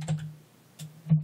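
A computer keyboard is typed on while entering a Linux terminal command, three separate close keystroke clicks spaced unevenly over a quiet room hum.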